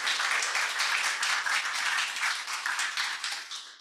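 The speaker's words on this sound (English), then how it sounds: "if we could all join me in giving Professor Rosenfeld a round of applause" An audience applauds a professor at a civics lecture on democracy, a dense, steady wash of many hands clapping that holds for several seconds before tapering off.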